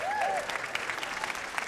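A short burst of audience applause at the Nobel Prize Summit 2023, a crowd clapping steadily for a moment during a talk.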